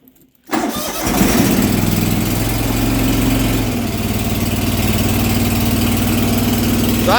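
A New Holland GT1 tractor engine cranks after a brief silence, catches and settles into a loud, steady idle that runs close by with no talk over it.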